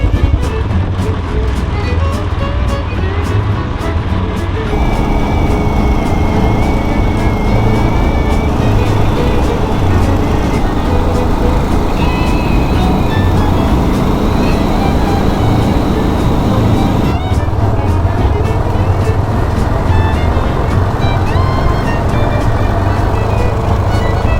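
A Royal Enfield Bullet 500 motorcycle engine drones loudly and continuously from close by, a steady rumbling roar with slight shifts in pitch throughout.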